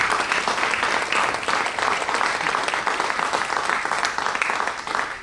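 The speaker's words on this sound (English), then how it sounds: "Give him an applause." Sustained applause from a congregation at a rabbinical graduation ceremony, dense and steady clapping filling the room at even loudness throughout.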